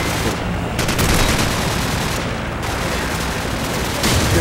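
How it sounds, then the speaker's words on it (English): AK rifle fire in a shooter game on a backlot map, loud close bursts of rapid shots in two main volleys with brief pauses between. "here I'm about to shoot a few shots off"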